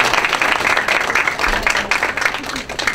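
Audience at a conference on the outlook for the Mexican peso applauding to welcome a speaker, loud, dense clapping close by with some voices mixed in, fairly steady throughout.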